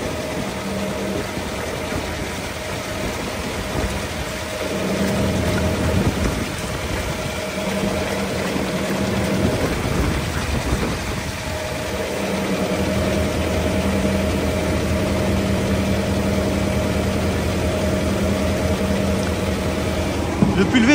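An agricultural sprayer's engine runs steadily nearby while product is pumped into its tank in cold weather, a continuous low drone with shifting pump and liquid noise and brief speech over it.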